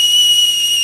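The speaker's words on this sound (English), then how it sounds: "As you can see, the teapot immediately starts to whistle" A metal tea kettle, filled with liquid nitrogen, whistles with a steady, loud, piercing tone that stays level from start to finish, with no talk.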